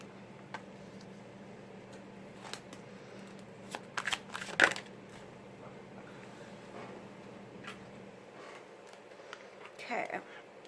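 Tarot cards are shuffled and riffled in scattered soft bursts, one louder flurry near the middle and another near the end, over a steady low room hum.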